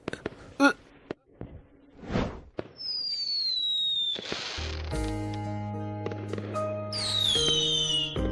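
New Year's fireworks bursting in the sky: several sharp pops and crackles, then whistling rockets streaking up and loud sustained bursts with ringing tones near the end.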